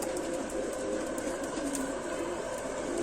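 Rampuri pigeons cooing softly and continuously in a loft, with a steady murmur of birds throughout and no voices.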